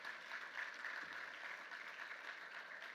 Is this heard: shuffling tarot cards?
no